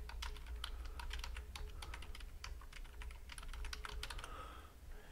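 A name typed on a computer keyboard, a quick close run of light plastic key clicks with brief pauses, fading out near the end, quiet and with no speech.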